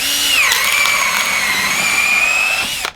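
A cordless drill with a firewood auger bores into the end of a dense log, the motor whining loud and steady as the pitch dips under load, then cutting off abruptly at the end.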